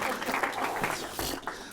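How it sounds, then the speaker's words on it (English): Brief burst of audience applause, a short spell of clapping from a small gathering, fairly quiet and steady before fading. "Round of applause."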